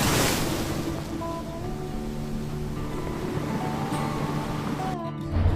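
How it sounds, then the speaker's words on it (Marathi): Sea waves wash steadily onto Tamboldeg beach in the Konkan, a continuous soft roar of surf with faint steady tones running beneath it. "समोर दिसणारा तांबळडेकचा समुद्र किनारा आता खुणावत होता"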